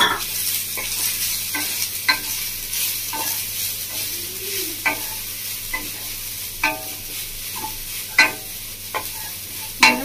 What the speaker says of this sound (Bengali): তো নারকেল কুড়াটা আমি ঘিয়ের মধ্যে দিয়ে দিচ্ছি।